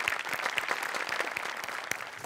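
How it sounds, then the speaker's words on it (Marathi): Loud, dense applause from a studio audience after a comedy sketch performance on a Marathi TV comedy show, a continuous crackling burst of many hands clapping with no voices. "मस्त झाला परफॉर्मन्स, जोरदार टाळ्या."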